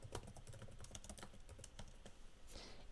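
Quiet computer keyboard typing in a run of quick, irregular key clicks over about three seconds, close and soft with no voices.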